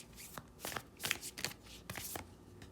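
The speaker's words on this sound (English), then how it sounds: "So I'm going to pull some oracle cards just to end this reading with the Moonology deck." Moonology oracle cards being shuffled up close, with a quick series of soft riffling bursts and card slaps in an irregular rhythm.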